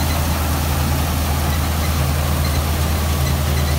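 A new John Deere 5210 tractor on a Punjabi farm drives a chopper, giving a steady, loud, low engine drone with a constant mechanical hum that holds even and unbroken throughout.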